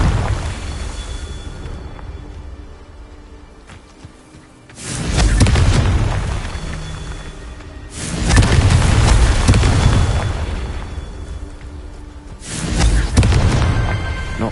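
Confringo fire spells in Hogwarts Legacy blast three times in succession, each a loud, booming explosion with a rumbling tail, with quieter gaps between the blasts.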